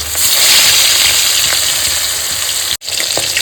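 Fish frying in hot oil in a pan gives a loud, steady sizzle that holds throughout, with a brief dropout near the end.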